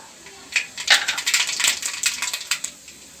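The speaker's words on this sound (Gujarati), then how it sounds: "આપણું તેલ ગરમ થઈ ગયું છે। હવે આપણે આમાં થોડી રાઈ નાખીશું।" Mustard seeds crackling and popping in hot oil in a pan while making Kathiyawadi sev dungli nu shaak, a rapid scatter of sharp close spits and ticks lasting a few seconds.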